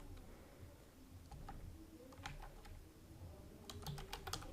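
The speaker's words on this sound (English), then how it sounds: "In the search widget box, type here" Soft keystrokes on a computer keyboard, a sparse few taps then a quicker cluster near the end, faint against a low room hum.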